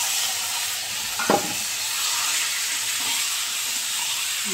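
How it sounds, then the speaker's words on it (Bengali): Mutton pieces hitting a hot pan of oil tempered with whole cumin, dried red chillies and green chillies give a steady close sizzle and hiss, with one brief louder scrape of stirring partway through and no voices. "এবারে মাংসটাকে দিয়ে দেবো।"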